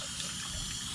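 Water poured into a lawn sprayer tank, a steady close gushing splash that runs without a break.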